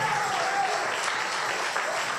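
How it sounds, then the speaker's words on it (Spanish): Church congregation clapping as an offering of applause to God, steady, dense applause filling the room with a faint voice briefly underneath. "denle su ofrenda de aplauso al Señor"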